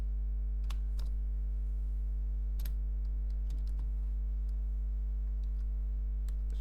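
Code being typed on a computer keyboard in a quiet room: sparse, irregular clicking keystrokes over a low steady electrical hum, faint and close, with no talk.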